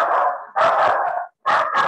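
A dog gives three quick barks close by, loud and sharp, with a short gap before the last pair.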